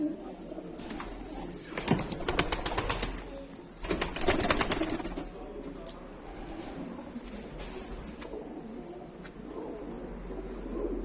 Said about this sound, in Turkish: Akşam mezatımıza çıkacak kuşlardan böyle bazıları